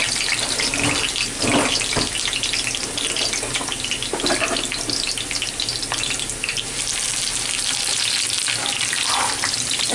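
Sage leaves sizzle loudly in hot olive oil in a cast iron skillet, a close, dense, continuous frying hiss with bursts of crackle.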